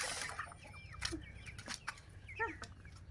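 A farmyard chicken and rooster, clucking in short, faint calls with brief pauses between them, close by with a quiet outdoor background.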